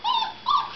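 Mastiff puppies give two short, close whimpering yips, one right after the other, clear and fairly loud with no voices over them.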